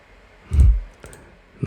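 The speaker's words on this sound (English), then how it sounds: "Nice. Keyboard sounds." Typing on a computer keyboard at a desk: a short cluster of close, crisp key clicks, then a single clack and another tap at the end, alone in a quiet room.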